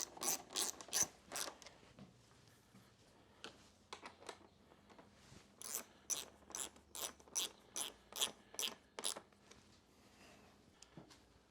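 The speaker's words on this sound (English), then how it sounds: "Get both of these bolts started in before you tighten them up. Once that's started in, run both screws in." Ratcheting clicks from screws being run in to reinstall the seat on a Honda CRF250X dirt bike, coming in quick close bursts with short pauses between them and no talking.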